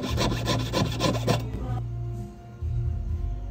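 A small saw blade cuts through a round workpiece, giving a steady rasping, rubbing stroke sound up close that repeats in a quick rhythm, then pauses and turns to a lower, quieter scrape.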